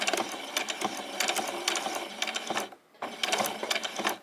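A sewing machine stitches down apron fabric in a steady, rapid mechanical chatter, close and continuous, with one brief pause before it resumes.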